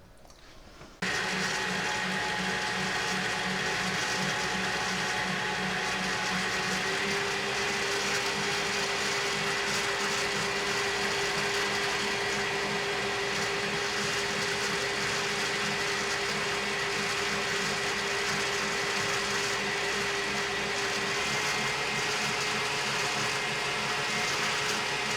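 An electric mixer beats Swiss roll batter in a single loud, continuous whir that runs steadily and close for over twenty seconds, with a slight pitch shift partway through.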